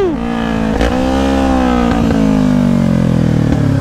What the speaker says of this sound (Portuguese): Ninjinha tá só o cano, o bagulho tá berrando